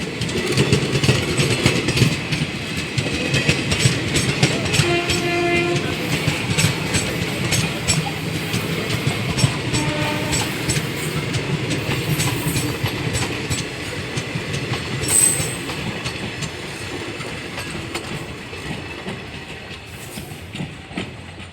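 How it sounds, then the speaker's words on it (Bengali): A train moves through a railway station with steady rumbling and rhythmic clickety-clack of wagons over the rails, loud and close throughout, with faint horn-like tones rising briefly at moments. "দেখো বন্ধুরা ট্রেন।"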